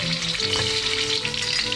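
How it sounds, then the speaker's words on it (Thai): Steady oil sizzling and crackling as about two tablespoons of curry paste fry over low heat in a pan, continuous and close, with no voices. "เราก็จะผัดพริกแกงด้วยไฟอ่อนๆนะครับเพื่อนๆ"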